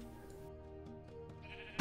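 A sheep bleats in the Minecraft video game as one drawn-out, wavering bleat, fairly clear over a steady tonal music background, ending in a sudden loud burst.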